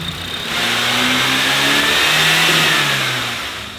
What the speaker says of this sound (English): we are going to try to shift through all the gears with the front wheels running